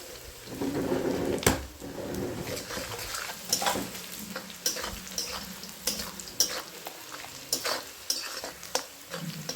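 Finely chopped onion with salt frying in oil for a Bengali fish curry, a soft sizzle punctuated by repeated sharp spatula scrapes and taps against the pan.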